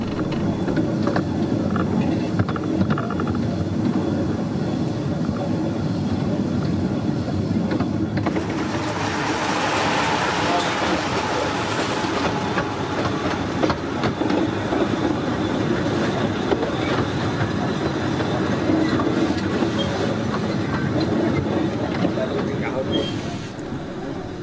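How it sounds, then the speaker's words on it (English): A diesel-hauled train on the Ravenglass and Eskdale Railway rumbles past close by with continuous rolling and clattering wheel noise, loud throughout, with some talk mixed in. "The first and last trains are diesel hauled each day."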